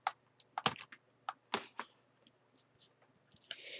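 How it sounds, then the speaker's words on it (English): Keys clatter on a computer keyboard in a brief, uneven burst of close, soft clicks, followed by a lull and a few more scattered taps. "we're going to type in try, and then the letter A"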